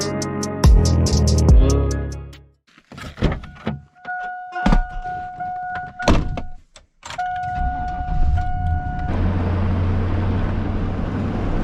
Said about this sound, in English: So we're gonna hop in the pickup truck, head over to the farm